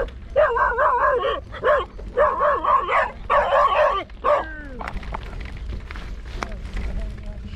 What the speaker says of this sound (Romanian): Câini liberi,